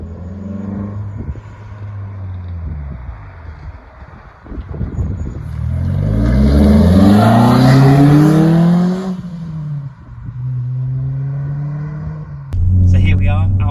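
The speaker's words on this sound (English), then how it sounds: "So here we are out on the road in the C4" A Citroen C4 VTS 180 driving on a public road, its engine rising and falling through gear changes with steady tyre and road rumble, loud and close from inside the car, with a person talking over it.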